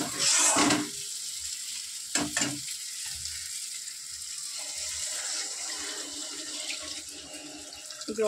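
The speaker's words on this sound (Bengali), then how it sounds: "জল দিয়ে দিলাম।" Water splashes into a pot of simmering potato curry, a brief loud pour followed by a bubbling, sizzling simmer in the kitchen.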